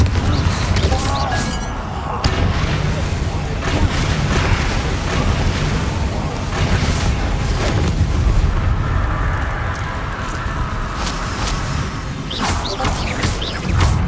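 Confringo spell explosions from the game Hogwarts Legacy burst in a rapid run of loud, booming blasts and crackling impacts over dense combat noise, with no clear pauses between hits.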